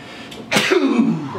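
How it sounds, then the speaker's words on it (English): A single powerful, dry sneeze bursts out close by over a quiet room hum, followed by a brief throaty vocal trail. "Oh, powerful sneeze. That was disgusting."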